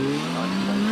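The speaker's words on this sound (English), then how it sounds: "Terry Davis is up there now in the Reynard car." A Reynard race car's engine holds a loud, sustained high drone at the Prescott hill climb, steady and close with a slight rise in pitch.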